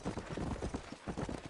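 Horse hooves clip-clopping in the Western video game Red Dead Redemption, a steady quick run of close, even hoof beats heard on their own throughout the short stretch.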